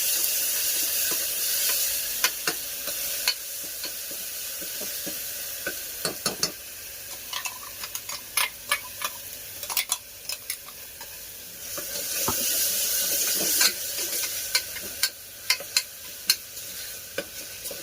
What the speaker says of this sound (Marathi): आता आपण त्याच्यामध्ये पेस्ट केली आहे ती टाकूया. थोडी परतून घेऊया.